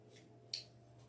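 A single quick snip of scissors cutting yellow deco mesh for a wreath, one sharp close cut in an otherwise quiet room.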